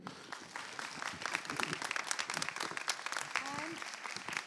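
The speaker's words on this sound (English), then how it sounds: "round applause for शोभना दीदी" A crowd gives a round of applause for a dance guru at a classical dance performance, sustained dense clapping heard at moderate level with voices talking over it and a brief vocal note near the end.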